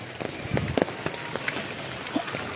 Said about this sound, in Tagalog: Ngayon umuulan pa rin po.